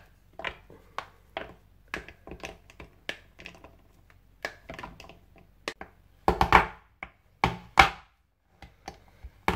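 A knife chops through a bar of stick-shaped chocolate on a cutting board, giving sharp, close, irregular knocks with brief pauses and a few heavier cuts near the end.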